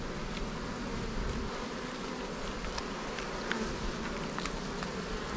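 Honey bees buzzing around an open hive during a super harvest, a dense steady drone with individual bees passing close now and then, continuous and without voices.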